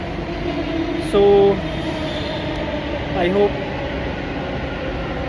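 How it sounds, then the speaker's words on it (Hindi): A metro train stands at a station with a steady rail and air-conditioning hum, broken by two short electronic chime tones, while someone talks briefly in the foreground. "तो अभी मेट्रो आ चुका है"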